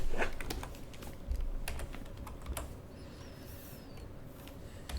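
Keyboard shortcuts for sculpting brushes are pressed on a computer keyboard, a few faint scattered clicks and taps against quiet room tone with no speech.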